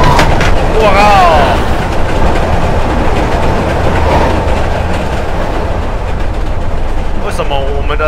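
A train rumbles past on railway tracks in the horror game Layers of Fear, a loud, continuous roar with rattling wheels and squealing metal that runs the whole time.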